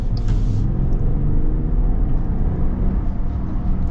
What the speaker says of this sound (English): Let's see what the acceleration feels like here